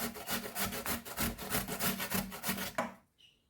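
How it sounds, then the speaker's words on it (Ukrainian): Potato being rubbed over a fine kitchen grater in quick, regular rasping strokes, about a dozen close scrapes in steady rhythm before the grating stops abruptly. "На дрібнішу терточку я натираю картоплю"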